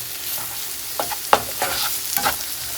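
Onions and garlic frying in butter in a pan, a steady soft sizzle with several brief stirring scrapes and clinks from a utensil, close and moderate in level, no talking.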